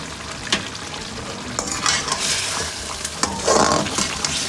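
Chicken karahi with black pepper and tomatoes sautéed in a pot, loud continuous frying sizzle with repeated spoon scrapes and knocks as the tomatoes are mashed and stirred.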